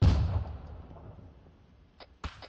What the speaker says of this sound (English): I'm about to introduce grenades to the situation.